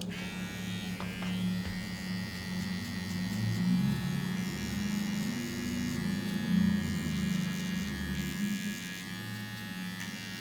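Electric hair clipper with a zero-gap blade set to the open lever buzzes steadily and close up while cutting guidelines for a fade haircut, a continuous motor whine with slight variations as it moves over the head.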